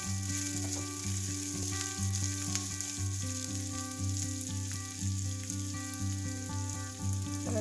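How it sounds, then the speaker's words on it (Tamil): Onions and chillies frying with lentils in hot oil make a dense, continuous crackling sizzle close up. A constant low hum from a stove or extractor runs underneath, and there is no talk. "பொறிஞ்சிட்டு நாங்கள் இதுக்குள்ளே வட்டியிருக்கிற இந்த வெங்காயத்தை சேர்த்து கொள்வோம்."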